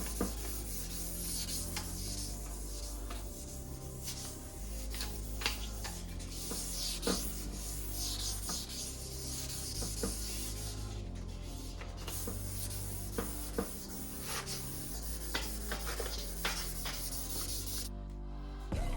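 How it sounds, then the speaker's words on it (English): A motorcycle gas tank being sanded by hand with 2000 grit sandpaper makes a steady, close, continuous rubbing hiss with small scratchy accents throughout, and no speech. "we hit it with a couple pieces of 2000 grit"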